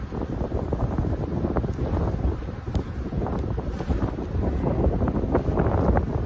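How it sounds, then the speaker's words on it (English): Strong wind gusts outdoors during a beehive inspection, a steady close rumble buffeting the microphone throughout with no pauses, no voices heard. "I really don't want to bring her up out of there with this wind."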